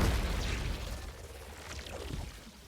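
A Shackle Grenade suspending detonation from a Strand Warlock in Destiny 2 goes off as a muffled boom with a whooshing burst that fades over a couple of seconds.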